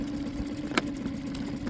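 An engine freshly serviced with cleaned and replaced injectors runs at a steady idle, a low, even hum with one sharp click partway through.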